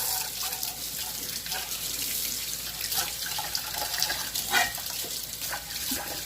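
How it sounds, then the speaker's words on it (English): Hands being washed under a running kitchen tap while cooking, a steady hiss of flowing water with splashing bursts, close and fairly quiet, with no talk over it. "Wash my hands."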